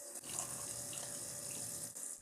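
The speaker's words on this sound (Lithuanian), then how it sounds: "aš galiu naudoti mažą piltuvėlį ir žarnelę, kad pripildyčiau sistemą vandeniu" Water pours steadily through a small funnel and hose into the water cooling system of a Stirling-engine-powered bicycle, a continuous close rushing and trickling flow with no talk.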